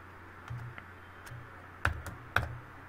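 Scattered keystrokes on a computer keyboard while typing code, a few light taps followed by two sharper, louder clicks close together, with quiet room noise between them.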